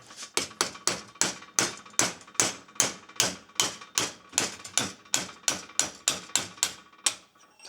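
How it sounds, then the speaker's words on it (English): A drift tapped through the fluid hole of a Range Rover brake caliper to drive the piston out, heard as about twenty sharp metallic taps in a steady, even rhythm, close and clear with nothing else underneath. "put a drift through the fluid hole onto the back of the piston and then just tap"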